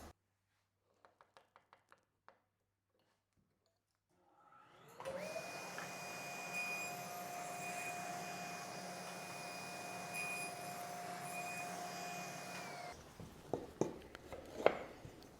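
Table saw cutting 1/4 inch plywood pieces run against the fence, a steady loud whine with a high tonal hum that starts after a few faint taps, holds for about eight seconds, then stops, followed by scattered knocks.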